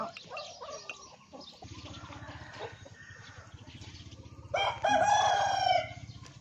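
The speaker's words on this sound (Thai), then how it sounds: "ลูกไก่แอบเข้าสวนยาย" A rooster crows loudly near the end after a stretch of soft clucking and a low rhythmic rumble outdoors.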